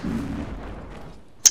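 Cannon fire in Mount & Blade: Napoleonic Wars, heard as a single sharp, loud blast near the end after a stretch of low battlefield rumble.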